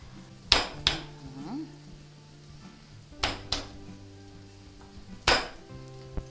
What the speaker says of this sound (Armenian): Ահա, մանրացնում եմ սխտորը։